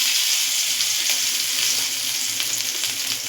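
Radhuni seeds and grated ginger sizzle steadily in hot oil in a kadai, a dense continuous crackle with small pops, close and fairly loud with no talking.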